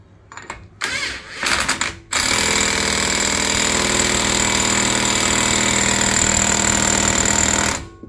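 A large impact wrench on a 36mm socket tightens a nut on a 2007-2011 Honda CR-V during CV joint work. A couple of short hammering bursts lead into a loud, continuous rattle of about six seconds.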